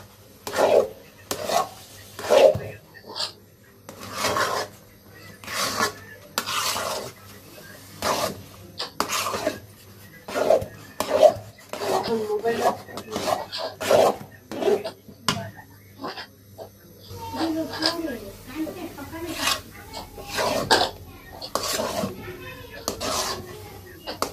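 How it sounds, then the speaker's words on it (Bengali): A spoon repeatedly scrapes and stirs chickpea halwa in a pan, rhythmic strokes with clinks and a soft sizzle, while someone talks intermittently over the work. "তখন ভালো করে নাড়বো, নাড়তে থাকবো।"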